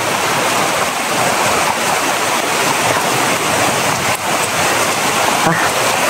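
Steady, heavy rain falls close by outdoors at night, a dense continuous hiss of drops hitting the ground and nearby surfaces with no break in intensity.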